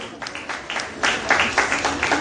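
An audience applauds graduates at a school graduation ceremony in Limonade, with steady mid-level clapping that swells in repeated waves and mixes with faint crowd murmur.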